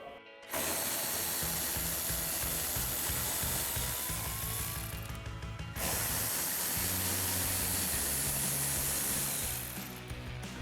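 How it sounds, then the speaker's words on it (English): A ratchet with a 7mm socket backs out fender bolts on a 2018-2020 Ford F-150, giving rapid, close pawl clicking in two long runs separated by a short pause, with no voices. "So we're going to use our 7mm socket to remove those"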